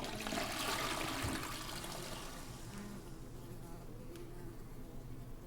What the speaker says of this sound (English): Bugs skitter from the bowl as you lift the seat.